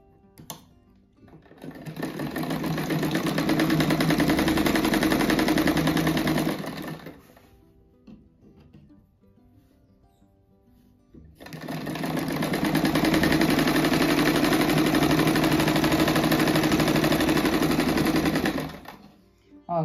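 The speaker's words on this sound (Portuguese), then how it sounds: "Agora vou costurar aqui na almofada." A sewing machine stitches the hem of a patchwork envelope cushion in two long, steady runs of loud, close mechanical whirring, separated by a short quiet pause.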